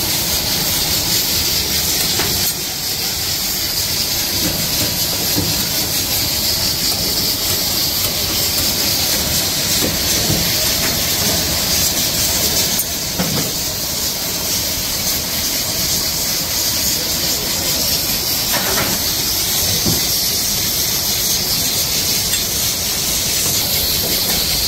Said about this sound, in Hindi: ये देसी मुर्ग को पहले उबालते हैं कोकर के अंदर